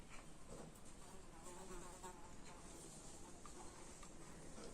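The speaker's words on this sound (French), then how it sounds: "Il y a une mouche qui vole." A fly buzzing indoors, a faint continuous drone under a soft, noisy background, steady throughout with no clear voices.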